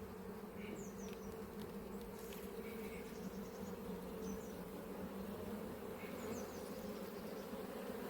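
A honeybee colony hums in a steady, dense drone, with occasional individual bees buzzing closer over the continuous low hum.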